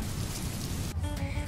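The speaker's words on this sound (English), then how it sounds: "It's raining." Rain falls steadily onto surfaces, a close, continuous hiss and patter for the whole short stretch with no voices.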